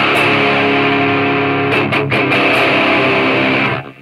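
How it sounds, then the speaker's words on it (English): Electric guitar played through a DOD Boneshaker distortion pedal with the distortion turned nearly all the way up for metal: a loud, thick, saturated sustained chord with brief choppy mutes midway, then a sharp cutoff at the end. "I got this pedal to play metal, so I like the distortion pretty much all the way up"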